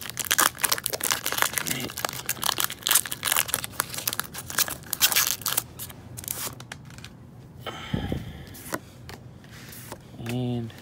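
A Pokémon Sun and Moon base set booster pack being torn open, with dense crinkly foil tearing and rustling up close, a short spoken word partway through, then paper handling at the end.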